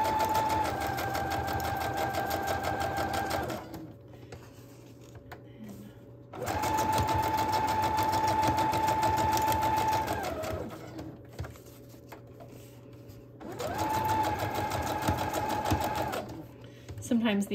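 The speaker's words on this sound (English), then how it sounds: "Sometimes these laces get a little hard to sew on." A sewing machine stitches lace onto a bohemian patchwork journal cover, running in three loud, steady bursts of rapid mechanical whirring separated by pauses, close up, with a person speaking in between.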